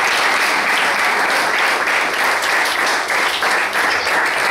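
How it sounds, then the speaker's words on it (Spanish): A church congregation at a ministry anniversary service gives loud, dense, sustained applause for a prophet, steady clapping filling the room throughout. "me le den un fuerte aplauso en esta noche"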